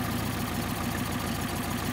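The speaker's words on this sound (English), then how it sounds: "And it's idling the best right there." A Porsche 356 engine fitted with Solex 40P11 carburetors idles during a tune-up, a steady, close, even rumble with a regular low pulse and no talking.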